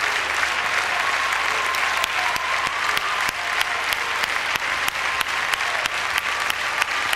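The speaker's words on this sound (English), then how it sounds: "crowd generous in their applause of the Italian couple" A large crowd applauding an Italian couple at the 2002 IDSF Standard dance championships, sustained dense clapping with sharp individual claps standing out, filling the hall without talk.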